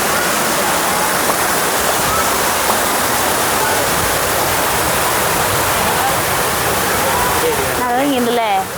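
A roughly 30-foot waterfall at Cheppara rock garden, where bathers are in the water, gives a loud, constant, close rushing roar throughout, with a voice briefly talking over it near the end.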